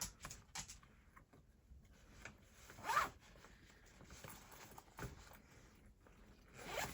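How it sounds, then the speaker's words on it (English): Soft zipper rasps on a fabric mini tote bag with an in-the-hoop zipper placket, quiet and close, with several short pulls and light rubbing of the fabric. "I'll take the tape off your zipper pull"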